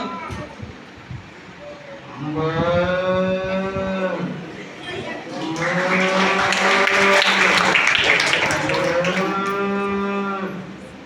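A human voice mimics a cow calling its calf with a long, drawn-out moo, repeated three times in low droning calls, close and fairly loud.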